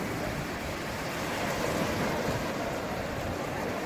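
Sea waves wash steadily onto a sandy beach at Chanthaburi on the Thai coast, a broad, constant surf hiss mixed with wind, with no voices.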